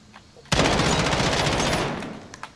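A sustained burst of rapid automatic gunfire rattles out for about a second and a half while the shooter holds the recoil, loud and close, starting abruptly and tapering off into quiet.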